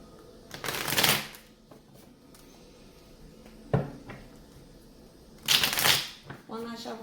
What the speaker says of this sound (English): One last shuffle for the collective